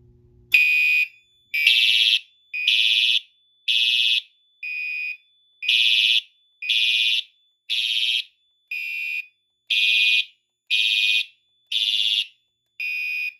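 A smoke detector on a Fire-Lite MS-4424B fire alarm system beeps loudly and steadily, about a dozen sharp high-pitched pulses in an even rhythm, with nothing else heard.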